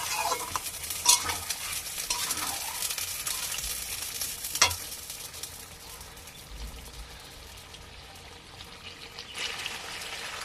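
Mutton pre-boiled with salt and turmeric is stirred and sautéed in a pan, with soft, quiet sizzling and intermittent spoon scrapes and clinks.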